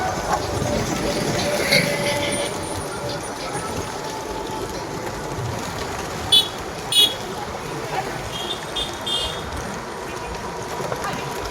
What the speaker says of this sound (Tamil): மாட்டு வண்டி கூட்டு வண்டியில் பயணம் மேற்கொண்டு